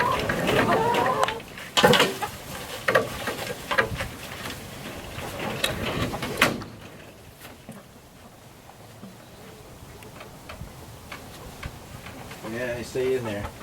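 Chickens in a larger backyard coop, some of them molting, clucking and calling near and loud alongside scattered thumps and rustling, with a person talking over them.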